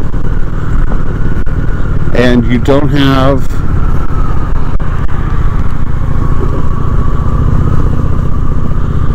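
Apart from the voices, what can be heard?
Honda Shadow 750 ACE motorcycle riding on the interstate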